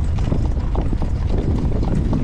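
Hooves of a horse in training clip-clop in a fast, close, continuous rhythm, loud and heavy, with low rumble underneath and no talk.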